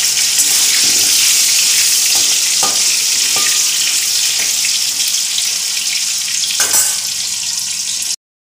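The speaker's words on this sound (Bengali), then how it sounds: "একটু নুন দিয়ে দেবো, এটা একটু লাল করে ভেজে নেব।" Potatoes frying with salt in a pan for a home chicken curry meal, a loud steady sizzle running throughout, with a few light scrapes and clinks of stirring and no talking.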